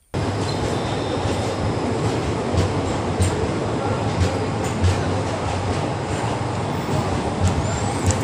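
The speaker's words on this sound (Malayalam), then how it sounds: "എനിക്ക് പോകുന്നതിനുള്ള ട്രെയിൻ വന്നു" A train rumbles loudly and steadily, a dense roar of wheels and carriages with faint squeals above it, no voices.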